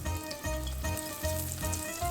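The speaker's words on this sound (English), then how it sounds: "You want a nice sizzle like that when you drop them in" Sliced eggplant sizzles in hot oil, a steady crackling fry with faint rhythmic low bubbling pulses, nearby and alone with no talking.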